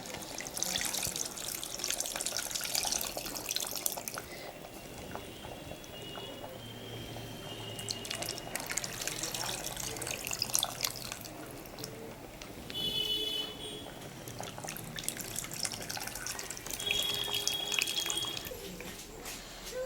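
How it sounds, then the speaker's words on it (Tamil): Tamarind water pours and splashes into a pot of cooked dal and vegetables, a continuous watery trickle and slosh with a few clinks, fairly quiet and close. "இதோட புளி கரைச்சலையும் சேர்த்துடுறோம்."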